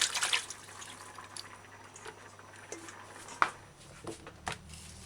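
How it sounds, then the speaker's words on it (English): Bok choy is rinsed under a running kitchen tap, with a soft, steady water wash broken by scattered drips and splashes at irregular moments. "Give it a final rinse on the fresh running water."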